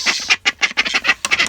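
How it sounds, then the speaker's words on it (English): Ducks on a livestock farm at morning feeding quack loudly and close by in a rapid, choppy series of about nine nasal calls, with no talking over them. "I'm going to careful not step on these ducks."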